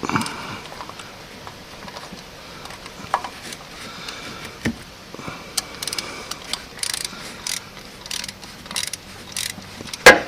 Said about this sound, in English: I'm using an extension with a 13mm socket for the top.